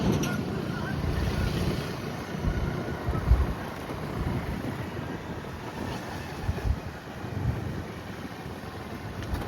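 Steady rushing river water with a low rumble, buffeted by gusts of wind against the microphone, continuous and fairly loud throughout.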